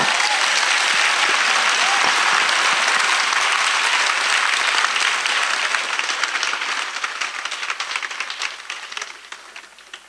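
A church congregation bursts into loud, sustained applause and cheering, a dense wash of clapping that holds strong and then slowly fades toward the end.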